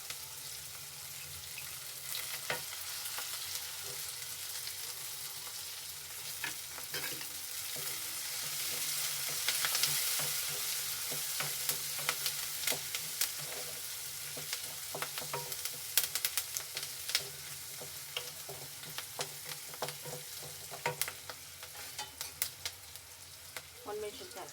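Onions, green chillies and curry leaves frying in a pan for rava uppittu, a constant bright sizzle with frequent crackling pops and spatula scrapes, loudest midway, and faint talk in the background.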